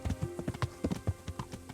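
Horse hooves galloping in the Kingdom Come Deliverance video game, a quick, even run of clip-clop beats at a fairly soft level with no talk.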